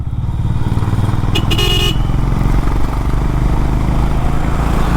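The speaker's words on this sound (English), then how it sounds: "third gear, now fourth gear, now fifth gear at around 70 kilometers per hour, and I'm pulling the throttle, and it is pulling well" A Honda CB350 motorcycle accelerates through the gears in city traffic with an updated ECU, its engine a loud, steady thumping drone throughout. A short horn toot sounds briefly near the middle.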